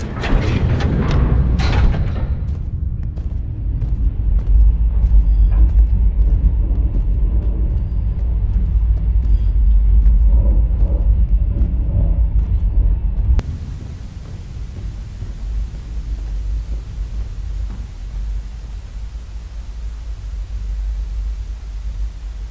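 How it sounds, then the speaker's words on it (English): Dark industrial machine ambience from the Scorn game trailer: a heavy low rumble with distant clanks and a few sharp impacts early on, then a shift to a thinner, steady droning hum. "The machines are still working even without the prompt of the player."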